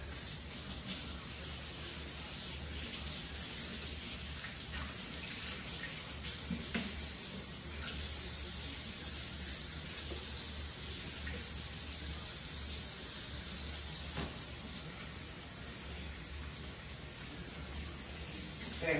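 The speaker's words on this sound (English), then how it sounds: "I'm just washing this off real quick." Water runs steadily from a kitchen tap as something is rinsed under it, a constant close hiss with faint clinks and no talking.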